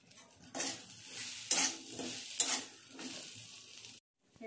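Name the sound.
drumstick and eggplant being stir-fried in spices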